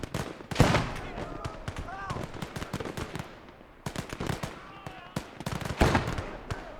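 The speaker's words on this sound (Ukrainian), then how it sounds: "І там кулемет ще з правої сторони." Machine-gun fire and other gunfire in the WWII strategy game Gates of Hell: Ostfront, sharp rapid bursts near and far, with irregular single cracks and a lull in the middle.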